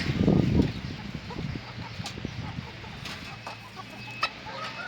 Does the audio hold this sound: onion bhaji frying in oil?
no